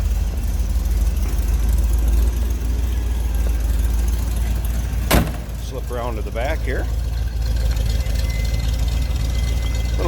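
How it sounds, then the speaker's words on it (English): A deep, steady 327 V8 engine idle in a 1967 Chevrolet Corvette convertible rumbles continuously up close, with a brief sharp knock midway and someone speaking over it. "Little rumble coming out of that 327."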